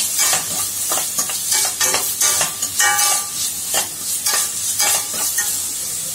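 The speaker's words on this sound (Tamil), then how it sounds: "ஹை ஃப்ளேம்ல எல்லாமே 3 இருந்து 4 நிமிஷம் வதக்கி குடுத்துக்கோங்க" Carrot, capsicum and green chili stir-fried over a high flame, with a steady hissing sizzle broken by repeated scraping stirs of a spatula, close and fairly loud, no voices.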